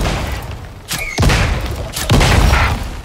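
In the survival video game Icarus, gunfire booms out during a boss kill, with two heavy, loud blasts about a second apart over a steady rumbling game background.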